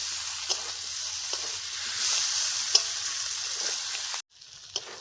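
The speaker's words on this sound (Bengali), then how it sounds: "এখন মশলাগুলোকে ভালো করে ভেজে নেব" Ground spices and chilli powder frying in a pan for a jackfruit curry with liver, a soft steady sizzle with a few light stirring taps, then a brief pause and more sizzling.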